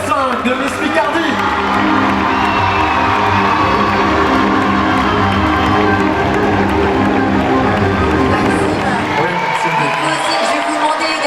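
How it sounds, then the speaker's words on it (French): Crowd cheering, whooping and applauding at the Miss Picardie 2019 beauty pageant results, a loud, continuous roar with music underneath that fades out near the end. "Faites du bruit pour le top 5 de Miss Picardie."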